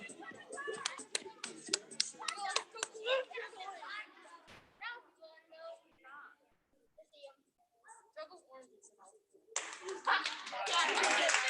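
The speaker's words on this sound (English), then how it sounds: "Let's give them a round of applause." Class of children claps in short bursts between spoken voices, starting with scattered claps, then talk, and ending in louder close applause.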